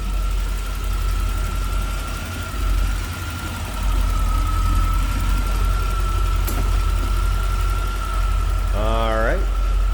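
A stock 1987 Chevrolet Corvette C4 convertible V8 engine idles steadily with a low, even rumble, and a short rising whine or chirp cuts in near the end.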